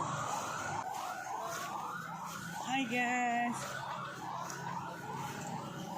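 An ambulance siren wails briefly in the middle, its rising and falling tone cutting through steady chatter and background noise at the Ulee Lheue port in Banda Aceh.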